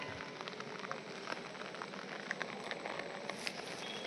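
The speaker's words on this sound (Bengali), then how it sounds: "ক্যামেরায় জল পড়তেছে" Water spatters and patters onto a camera outdoors in steady rain, giving a dense, continuous crackling hiss with scattered sharper drop impacts throughout.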